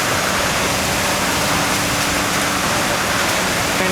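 Wet concrete gushes forcefully from a pump hose into a basement under construction, a loud, steady, dense rushing roar like a waterfall that fills the whole stretch without pause.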